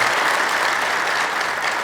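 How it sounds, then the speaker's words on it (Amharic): An audience applauds warmly at a training session, a steady, dense wash of clapping hands filling the room without a break. "አንዴ አጨብጭቡለት"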